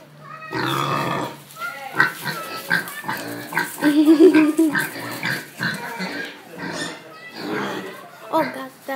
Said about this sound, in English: I'm gonna go inside and see all the pigs.